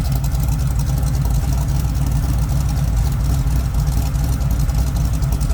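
Steady low engine idle of a 1967 Chevrolet Camaro, heard from the rear, loud and close, a continuous rumbling drone that holds unchanged throughout.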